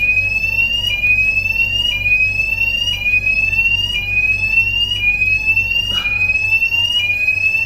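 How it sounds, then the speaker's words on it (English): A loud, steady electronic water alarm tone on a Gardner 6LYT diesel engine beeps continuously in a repeating cycle about once per second over a low mechanical hum, with no talking. "Sorry about the alarm noise."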